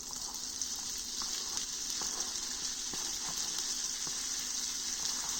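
Turkey bacon hits a pan of hot light extra virgin olive oil and fries with a steady, fairly quiet sizzling hiss and occasional soft pops, continuous throughout with no talking.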